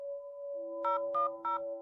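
Telephone keypad tones sound as a number is dialed on a phone: three short, evenly spaced beeps ring out over a steady dial tone, close and clear with no voices.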